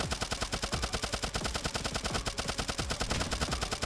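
Rapid, evenly spaced bursts of gunfire from shooting in the video game Turnip Boy Robs a Bank, a continuous machine-gun-like stream of loud, close shots.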